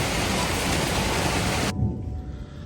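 Heavy, steady rain pours down in a rainforest in Thailand as a dense hiss, then cuts off abruptly to a quieter, duller patter.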